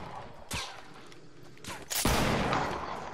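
Gunfire in a video game cracks out in sharp, loud bursts: one shot, then a pair of close reports a second and a half later, the last trailing into a rumbling decay.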